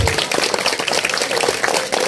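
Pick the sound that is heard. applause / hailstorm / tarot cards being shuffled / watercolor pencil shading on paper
applause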